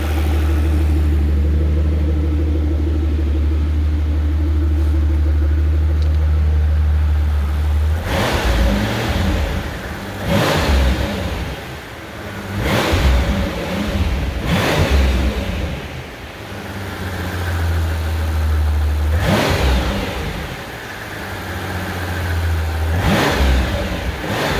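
A 2005 Mercedes SL65 with 97k km, just after light maintenance, idles with a deep steady rumble, then its engine is blipped through a series of sharp revs, roughly five bursts, loud and close, with no talking.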